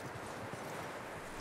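Horse hooves clip-clop steadily on a path in Red Dead Redemption 2, a continuous close rhythm of hoof strikes over faint background ambience.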